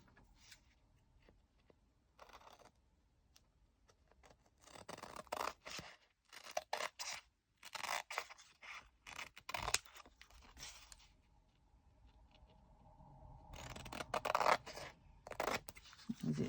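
Scissors trim a diamond painting canvas in close, crisp snips and crunchy cuts, coming in irregular bursts separated by short quiet gaps and handling rustles.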